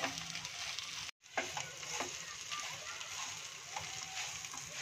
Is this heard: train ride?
no